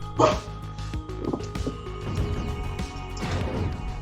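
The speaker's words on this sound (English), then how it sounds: "mine just woke up from a nap and decided to look at me and give a little woof" A dog freshly woken from a nap lets out a small woof, a short soft bark near the start, then quieter bark-like bits amid game sounds and background noise on a back porch.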